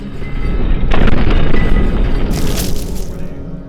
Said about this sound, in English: This massive cannon is a railgun that has an incredible damage rating